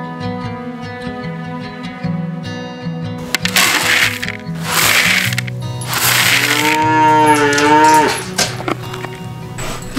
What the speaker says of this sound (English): We're taking care of the cows and the horses.